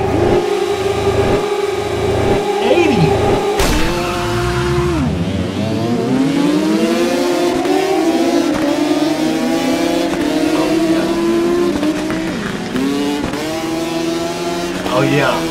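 A 1980 motorcycle engine in the TT Isle of Man racing video game revs hard and shifts repeatedly, loud and continuous, with a player talking over it.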